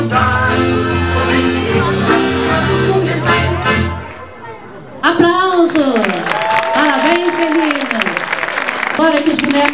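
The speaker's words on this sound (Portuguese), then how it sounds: "Aplausos." An audience at a school Festa Junina gives applause and chatter after a loud sung performance, with crowd noise and voices mixed over the clapping.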